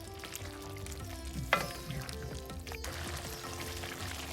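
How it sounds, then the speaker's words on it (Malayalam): Potato pieces are stirred into a simmering Kerala-style chicken curry with potatoes: a low, steady bubbling under soft spoon-against-pot scrapes, with one sharper clink midway and no talking. "കിഴങ്ങും കൂടെ ചേർത്ത് ഇളക്കി മൂടി വെച്ച് ഇവിടെ വേവിക്കണം"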